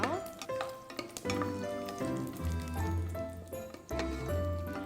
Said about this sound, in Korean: 마늘 먼저 넣어서 볶을게요